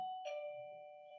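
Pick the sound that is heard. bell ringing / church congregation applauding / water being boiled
bell ringing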